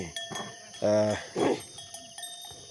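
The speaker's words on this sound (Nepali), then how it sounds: "कुकुर भुकिरहेको छ गाउँमा" A dog barks a couple of times at moderate distance in a village, short sharp bursts against a quiet rural background during millet planting with ox ploughing.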